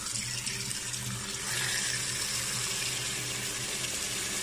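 Cold tap water runs steadily into a container holding rinsed chicken breast, a continuous close splashing stream with a low hum underneath and no talk.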